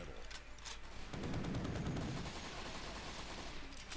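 Gunfire from various weapons in the Postal 3 video game, rapid bursts of shots and heavier booms overlapping in a dense, continuous barrage, moderately loud.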